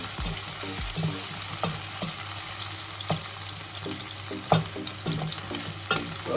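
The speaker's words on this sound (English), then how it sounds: "so that oil is quite hot. Sizzle, sizzle, sizzle." Turkey pieces fry in hot oil for an ayamase stew with a steady, close sizzle, broken by occasional scraping stirs.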